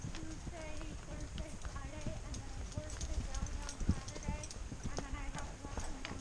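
Horse hooves clip-clop in a steady walking rhythm on a mountain trail, close by, with quiet talk and outdoor ambience mixed in.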